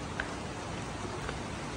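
Steady rain falls outside a hotel in Goa, a dense, even hiss with a few faint drop ticks, continuous and moderately quiet throughout with no talking.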